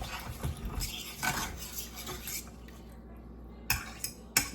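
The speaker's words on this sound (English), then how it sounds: "Stir it up" Spoon stirring Mexican all-purpose seasoning into food inside a cooker pot, soft scraping and clinking with a couple of sharper metallic knocks near the end, quiet and close.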